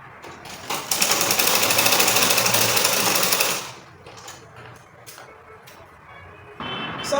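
A sewing machine runs in a fast, steady, buzzing burst while stitching a long-sleeve garment with a cuff, then stops, leaving quieter handling noises and a short restart near the end.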